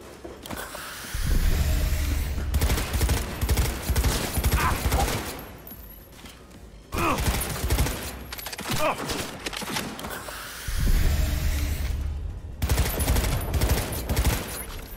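Gunfire in Cyberpunk 2077, loud rapid bursts of shots in three long volleys separated by short pauses, close and dense, with occasional mechanical clicks between them.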